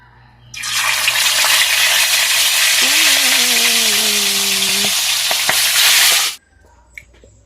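Food fries in a hot pan with a loud, hissing sizzle that starts suddenly and holds steady for about six seconds before cutting off abruptly; a brief faint voice-like tone rises midway.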